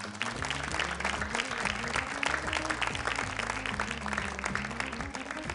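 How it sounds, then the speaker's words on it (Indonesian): A studio audience at a grand-final Quran recitation contest claps steadily throughout, a moderate, even patter of many hands under a continuous musical backing. "tepuk tangan untuk Zulfikri"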